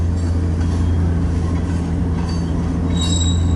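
A freight train with distributed power locomotives rolls past close by in Fremont, Nebraska, with a loud continuous rumble, a steady low hum and high wheel squeals near the end.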